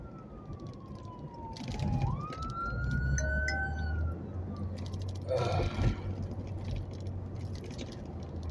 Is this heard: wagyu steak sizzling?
no